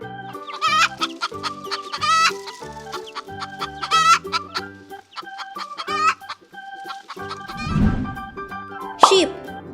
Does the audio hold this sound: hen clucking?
yes